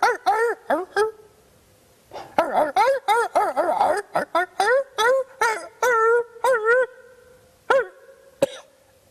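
A man imitates a dog, giving a long run of barks, yelps and howls into a Bowlingual dog-translator device, with close, loud bursts in an irregular rhythm and brief pauses between them.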